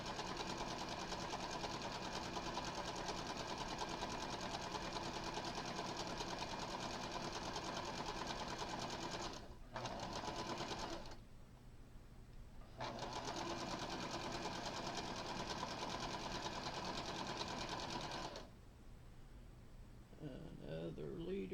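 A sewing machine stitches in long steady runs, a loud, even mechanical whir that stops briefly twice before starting again, with a faint voice during a pause near the end.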